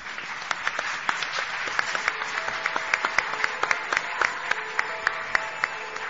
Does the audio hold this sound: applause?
yes